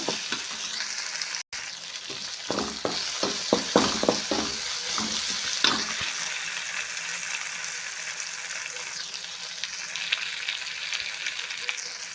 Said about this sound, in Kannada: ಇವಾಗ ನೋಡ್ರಿ ಬೆಳ್ಳುಳ್ಳಿ ಕೆಂಪು ಹಸಿ ಮೆಣಸಿಕಾಯಿನೂ ಫ್ರೈ ಆಗೈತಿ